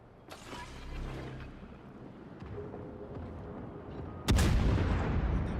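Guns of the Admiral Graf Spee firing in a naval video game, a distant boom early on, creaking and wind-like rumble, then a loud, close heavy salvo that rolls on afterward.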